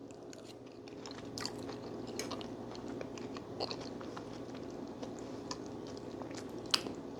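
Close, quiet chewing of steamed snapper fish, with soft wet bites and occasional crunches scattered over a low background hum.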